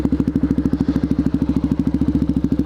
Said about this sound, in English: I always try to get at least one or two little wheelies in every time I ride.